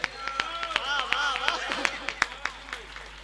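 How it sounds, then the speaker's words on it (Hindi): At a Hindi comic poetry gathering, audience hands clap in a steady beat of distinct claps while a voice carries on over them, the clapping fairly close and moderate in level. "तो एक बार दोनों हाथ उठा करके तालियां बजाइए"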